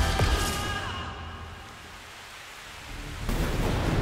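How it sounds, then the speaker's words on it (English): A raging storm over the Bermuda Triangle with rain and thunder, a dense wash of rain noise swelling at the start, easing in the middle, and rumbling back up near the end, with no voices. "A storm continues to rage over the Bermuda Triangle as Maria Hill's crashed helicarrier"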